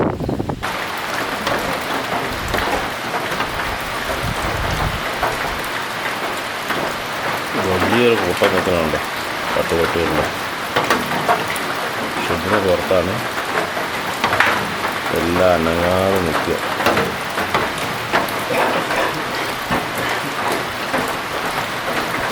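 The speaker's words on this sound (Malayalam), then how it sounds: "നല്ല മഴയുണ്ട്" Heavy rain pours steadily in a forest outside a shed where fishermen and dogs shelter, a dense, constant hiss filling the whole stretch while people talk over it.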